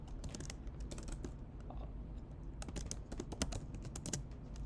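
Computer keyboard keys tapped in quick irregular bursts while a post title is typed, close and clear over a low background hum.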